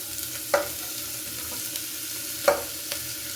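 Carrots frying in hot oil with mustard seeds and curry leaves, a soft steady sizzle broken by two sharp spatters or pops, close and alone.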